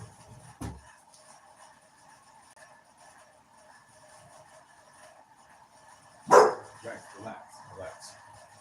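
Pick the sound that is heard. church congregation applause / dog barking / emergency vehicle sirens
dog barking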